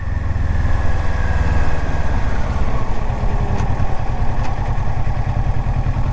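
A 2017 Kawasaki Versys 650 motorcycle engine drones steadily while riding, with a loud, continuous low rumble and wind noise throughout and no talking.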